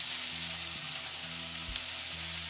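Onion, garlic and red chilli frying in a pan for a pizza topping, a close, steady hiss of sizzling with a couple of brief stirring knocks.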